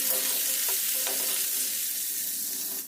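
Chopped onion hits a hot pan already holding dried red chillies, a bay leaf and garam masala while cooking a catla fish dish, giving a steady, close, continuous sizzle with a couple of brief stirring scrapes early on.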